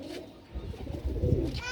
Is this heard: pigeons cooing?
yes